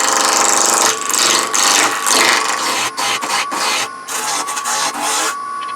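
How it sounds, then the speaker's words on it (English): A wood lathe spins a workpiece while a spindle gouge cuts it round, giving a loud, rough, scraping rasp that surges and drops in bursts as the tool bites and lifts off. "typically you're going to go ahead and use the spindle gouge to get it round"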